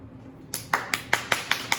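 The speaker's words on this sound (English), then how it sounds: "huge round of applause" A small group clapping, with about seven separate claps arriving in a fairly even rhythm after a quiet start, close by and moderately faint.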